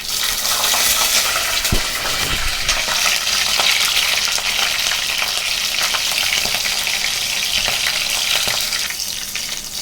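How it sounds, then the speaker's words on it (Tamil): Curry leaves and green chillies frying in hot oil in a pan, producing a loud, close, continuous crackling sizzle with a few sharp pops and knocks early on, no voices over it. "எண்ணெய் ஊற்றியாச்சு காஞ்சிடுச்சு சட்டியில் கருவேப்பிலை போட்டுக்கலாம் ரெண்டு பச்சை மிளகாய்"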